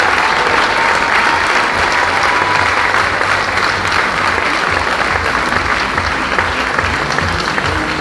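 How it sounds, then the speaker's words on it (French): An audience at a charity show applauds a cheque presentation with dense, loud, sustained clapping that fills the whole stretch, and a voice speaks briefly over it. "mesdames, messieurs, on peut l'applaudir"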